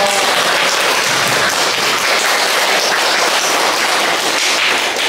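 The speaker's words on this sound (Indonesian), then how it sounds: "Tepuk tangan dong." Classroom of students applauding at the close of a teaching session, loud, dense and continuous clapping close by for the whole stretch.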